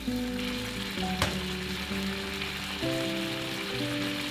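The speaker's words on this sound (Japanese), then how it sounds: "フライパンにオリーブオイルを小さじ1入れて皮を下にして焼いていきます" Chicken breast sizzles skin-side down in a teaspoon of olive oil in a frying pan over medium heat, a continuous bright crackling hiss with a few louder pops, steady and close.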